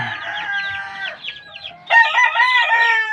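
Backyard chickens in Pampanga, with close, clear clucking and cackling from hens and a rooster, rising to a louder burst of calls partway through.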